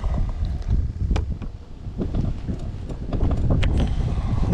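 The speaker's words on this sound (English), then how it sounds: "That wind's blowing." Wind buffets a small boat out on the water during a fishing trip, a steady loud rushing roar with gusty low-end microphone buffeting and occasional knocks, heard alone with no talking.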